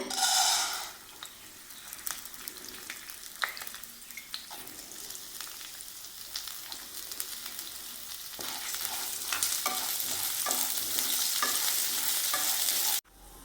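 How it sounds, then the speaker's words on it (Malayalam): Washed green gram dry-roasting in a pan, a continuous scraping stir with soft rattling and a light sizzle, growing slightly louder toward the end. "ചെറുപയർ നമുക്ക് വറുത്തെടുക്കണം"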